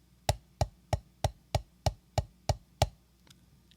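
A drum practice pattern of single strokes followed by triple strokes, played as nine crisp, evenly spaced stick hits on a practice surface, fairly quiet and alone, with a faint extra tap near the end.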